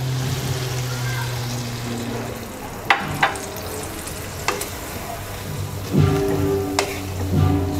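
Water splashes into a pan where kochur loti (taro stolons) and hilsa fish head are cooking, a steady sizzle and bubbling with a few sharp clinks of a utensil against the pan, close and fairly loud.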